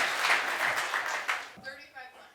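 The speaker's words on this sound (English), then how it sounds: "Hold your applause. Hold your applause." Live audience at a Chicago call-in show taping bursts into applause, a dense crowd clatter that fades after about a second and a half as a voice takes over.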